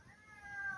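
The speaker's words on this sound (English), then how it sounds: "see what this cat wants" A cat meows as it asks to be let in, giving one drawn-out, rising cry that grows louder toward the end and sounds faint against a quiet background.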